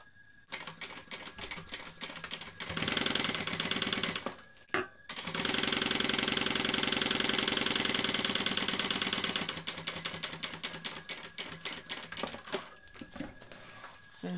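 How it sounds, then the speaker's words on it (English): A sewing machine stitching the top seam of a bag's box section with a short stitch length, running in a fast continuous mechanical chatter, pausing briefly in the middle, then resuming and slowing to a lighter rattle; no talking. "we want to sew this box, but we're only sewing on the top and the bottom"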